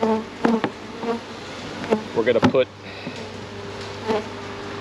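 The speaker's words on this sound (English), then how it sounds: "Now the bees are ready to come out." Honey bees from a package being installed into a hive buzz continuously nearby, with scattered clunks and knocks of hive equipment and someone speaking briefly over the hum.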